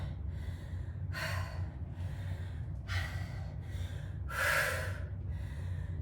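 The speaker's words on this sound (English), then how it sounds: "I'm just trying to catch my breath." Heavy, laboured breathing from someone catching their breath mid-workout during a glute, cardio and core circuit with bench and dumbbells: several loud gasping inhales and exhales in an uneven rhythm over a low steady background hum, no talking.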